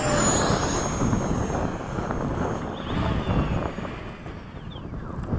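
A Hobby King Avios 90mm Mig-17 RC jet whooshes in to land at an airfield, its turbine whine steady and close, with wind buffeting the microphone.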